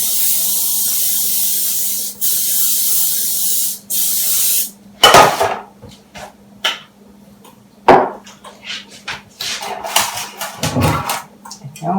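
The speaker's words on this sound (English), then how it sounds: "We're going to spray our pan." Cooking spray hisses onto a cake pan in a kitchen in several sharp, close bursts, followed by clattering and knocking of the pan and utensils.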